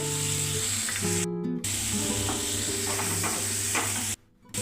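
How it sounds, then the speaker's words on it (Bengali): Chopped tomatoes sizzle and fry in a pan for chilli chicken, a steady loud crackling hiss with scraping stirs, broken by two brief near-silent gaps. "এবার টমেটো কুচিগুলোকে দিয়ে আরও তিরিশ সেকেন্ড ফ্রাই করে নেব"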